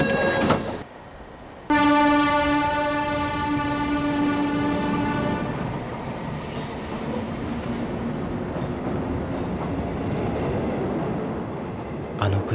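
Train from the PS2 game Blood: The Last Vampire, a loud horn blast with stacked harmonic tones sounding for several seconds before giving way to a steady rumbling roar of rolling wagons that carries on to the end.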